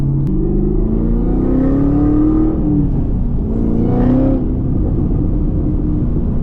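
A Chevrolet Camaro ZL1 1LE cruises city streets with a deep, steady V8 rumble, the engine note rising gently under light throttle and then easing off, loud and close throughout with no talking.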